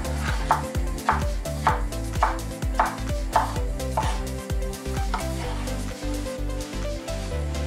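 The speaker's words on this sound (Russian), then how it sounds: "Нарезаем перец." A knife cuts bell pepper on a cutting board while chanakhi is prepared in clay pots. The steady, evenly spaced chops sound over continuous background music.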